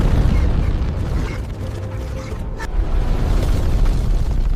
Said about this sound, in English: And then, suddenly, a terrifying explosion resounded across the land.